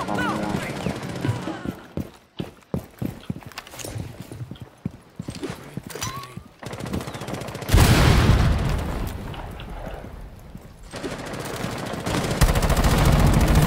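Gunfire in the video game Rainbow Six Siege: rapid bursts of shots and loud booms, with dense crackling volleys, layered over game noise and a player talking.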